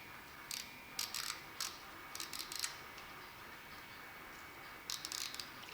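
Setting a mechanical Horoz timer-3 time relay produces faint, quiet clicks and ticks in short clusters, several bursts spread across a near-silent room with no talk.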